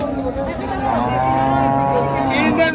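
At a crowded cattle market trading dairy cows in the rain, a nearby cow lets out a long, sustained moo over steady background talk and market bustle.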